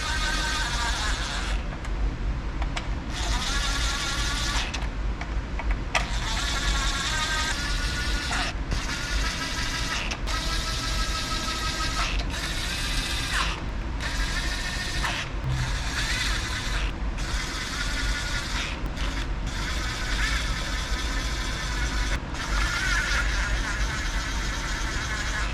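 A ratchet clicks in quick, repeated bursts while engine bolts are snugged down on a 2012 Chevy Cruze engine being readied for installation. The sound is close and fairly quiet over a steady background hum.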